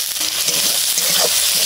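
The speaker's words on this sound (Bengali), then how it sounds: "তো আদা রসুনগুলো ভালো করে ভেজে নিয়ে টমেটোগুলো ওর মধ্যে দিয়ে দিলাম।" Ginger-garlic paste and tomatoes fry in hot oil, a short steady hiss of close sizzling with faint stirring underneath and no speech.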